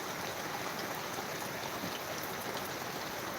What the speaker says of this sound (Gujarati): જબરજસ્ત વરસાદ આ